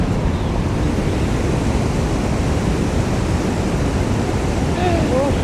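A fast-flowing stream in Dumnaga Valley, Neelam Valley, Kashmir, rushes in a loud, continuous broadband roar that stays close and steady throughout.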